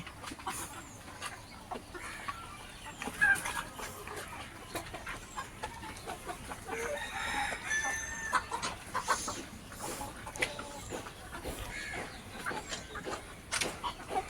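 Hens on a rooftop poultry farm cluck and murmur steadily after their midday feed, a busy flock near and far with occasional sharper calls over a constant background hiss.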